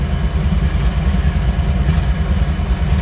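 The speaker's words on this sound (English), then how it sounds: "that's the engine you can hear running now" Locomotive engine idling at an intermodal rail facility, a loud, close, steady diesel rumble with a pulsing low throb that runs without a break.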